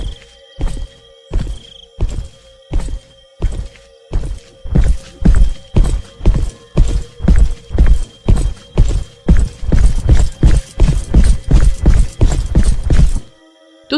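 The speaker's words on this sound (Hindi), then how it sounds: "अब सुषमा को पैरों की आहट ज्यादा आने लगी थी।" Footsteps approach with a steady, hard, clip-clop-like beat in a Hindi horror story about a witch following a woman at night, starting slow and spaced, then quickening into a loud, rapid, close run before stopping abruptly.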